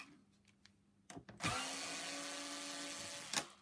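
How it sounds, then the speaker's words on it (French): Torx 20 screws being undone on the mounting plate of a Lux 1 Royal D820 vacuum cleaner: a few faint clicks and handling knocks, then a loud, steady electric whir that holds for about two seconds before cutting off. "Ensuite, nous allons dévisser. C'est du Torx de 20."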